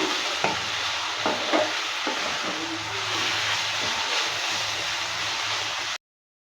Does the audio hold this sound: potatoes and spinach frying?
yes